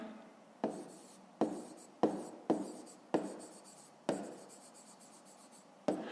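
Pen strokes scratch across a notebook page in a quiet room, several close, distinct bursts of writing separated by brief pauses.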